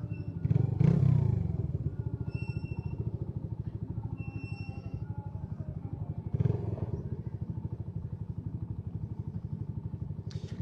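A Mash Black Seven 125cc motorcycle engine idles steadily and close by, a low even throbbing with a brief blip around the sixth second, no one talking.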